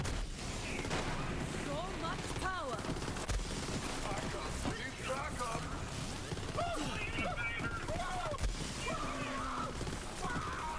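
Weapon fire against a boss in Borderlands 3, with dense gunfire and impacts layered over game effects and a busy, continuous mix, and with a voice talking intermittently.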